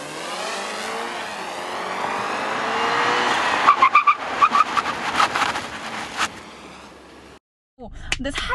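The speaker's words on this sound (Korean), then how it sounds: "얼마나 타이어가 접지가 잘 되고 또 제가 원하는 장소에서 딱 멈추는지 한번 해보도록 할게요." A BMW 3 Series brakes hard to a stop, its tires squealing and skidding on the road over a rushing drive noise that builds, then breaks into sharp chirps before falling quiet.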